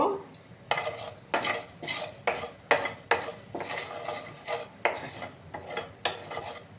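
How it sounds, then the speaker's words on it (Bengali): Fennel seeds and black pepper being dry roasted and stirred in a pan, giving a series of rhythmic scraping, rattling strokes, close and moderately loud, with no talking. "এবার আমি এটাকে একটু ড্রাই রোস্ট করে নেব"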